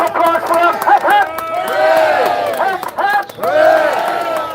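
Protest crowd outdoors cheering hooray in loud, rising shouts, with scattered clapping between the cheers as a voice leads the chant.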